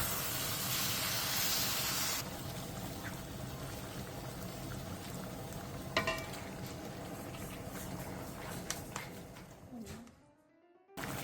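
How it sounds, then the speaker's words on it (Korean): Spicy pork and squid bulgogi with bean sprouts cooks over high heat. It gives a continuous sizzling hiss with a few sharp pops and scrapes, then quiets abruptly near the end. "오삼불고기를 센 불에서 콩나물에 숨이 살짝 죽어 가라앉을 때까지 놓아주세요"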